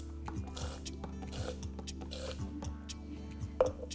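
A pump dispenser pushes out tart apple craft puree in a few quick ratcheting, clicking strokes over a low background hum, close by.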